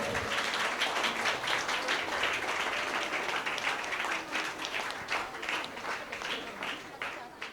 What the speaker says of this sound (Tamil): அவர்களை அரங்கமதிர கைத்தட்டலோடு வரவேற்போம்